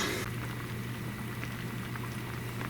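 Noodles boil in a pot of water, giving a steady, close bubbling and popping with constant hiss and no talking.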